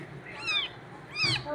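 Newborn kitten giving two thin, high-pitched meows about a second apart, close and clear over faint room noise.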